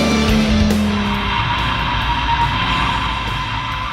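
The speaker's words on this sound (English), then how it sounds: "They're almost consistently squealing all the way around the track trying to find traction." Nissan Z on stock tires lapping a race track, tires squealing almost constantly under a loud, steady engine roar, heard close and continuous throughout.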